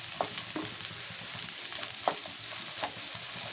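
Okra fries in a pan with salt added, giving a steady close sizzle with a few soft crackles and light stirring ticks throughout, and no voices.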